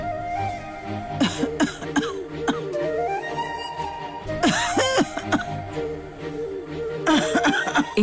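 A woman coughs in several harsh clusters, each a quick run of hacking bursts separated by pauses, close and prominent over soft tonal background sound.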